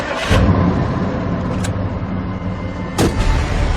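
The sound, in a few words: car engine starting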